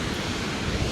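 Strong gusting wind batters the microphone on an exposed Isle of Skye coastal hillside in autumn, a loud continuous broadband roar with no voices.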